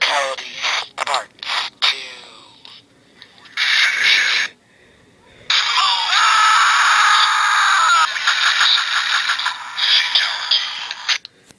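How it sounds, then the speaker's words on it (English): Screams, grunts and scraping effects from Mortal Kombat fatality scenes, played as a rapid burst of harsh, loud, distorted cries and clanks with a brief silent gap midway, then a sustained scream. "Now about the screams and the grunts from the real video game."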